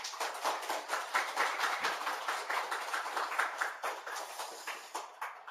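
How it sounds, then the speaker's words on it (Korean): Church congregation at an autumn revival service applauding, a dense, continuous wash of many hands clapping with a slight pulsing rhythm, moderately distant and fairly soft, no voices over it. "박수 한번 더 세게."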